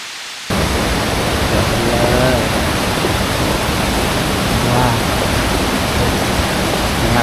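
A constant, loud rush of water flowing below a mountain in a forest, like a stream or small waterfall, filling the whole scene after a brief quiet start.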